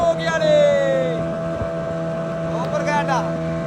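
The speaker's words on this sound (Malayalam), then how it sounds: "ഇവിടുന്ന് ഒരു തോണിയിൽ കയറിയിട്ട് വേണം നമ്മളെ അൽബുറൂജ് ബോട്ട് പോയി കയറാൻ" A motorboat, the Al Buruj, runs at sea with a steady engine drone and wind. Voices talk over it.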